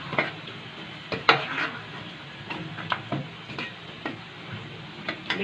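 A cooking pot of chicken white karahi being handled on the stove, with scattered metallic clanks and scrapes, sharp knocks and a faint sizzle underneath, irregular and close by.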